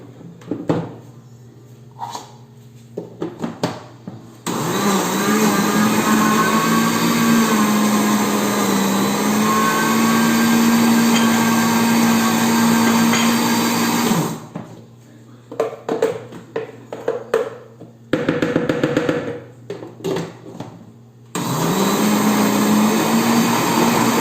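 Electric hand mixer beats cake batter with two tablespoons of butter during a cooking class, whirring in a steady loud drone for about ten seconds, stopping briefly with some handling knocks, then running again.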